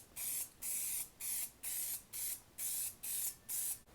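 Up close, a second coat goes onto a wrecked Miata's car part as eight even bursts of aerosol spray hiss in a steady rhythm, each about half a second long with brief pauses between.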